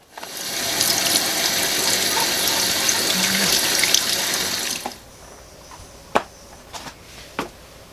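Warm water runs steadily from a tap as tires are rinsed, a loud continuous splashing rush for about five seconds, then stopping, followed by a few sharp clanks and knocks.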